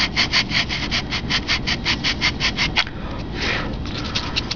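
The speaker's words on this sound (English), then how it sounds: "doing a little bit more with the 80 grit because I didn't get it roughed out quite good enough on the leading edge." Hand sanding on a balsa glider wing with 80 grit sandpaper, rapid rhythmic back-and-forth scratchy strokes, about a dozen quick passes, then a pause and a few more, close and alone.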